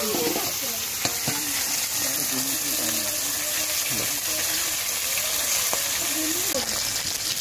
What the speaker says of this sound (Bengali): আমি এটা মাছটা ভেজে রেখে দিচ্ছি